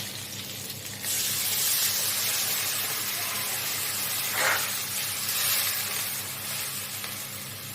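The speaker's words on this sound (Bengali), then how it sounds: "এরপর এতে আমি দিয়ে দেবো জল" Water poured into a hot pan of sautéed pointed gourd and spices sets off a sudden loud hissing sizzle that swells about a second in and keeps steaming steadily to the end, with no voices.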